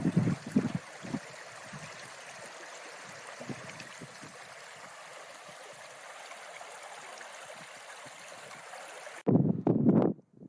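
A river flowing at a crossing on the Jura coast, a steady broadband rush of water running throughout, with brief louder splashes or handling noises near the start and end.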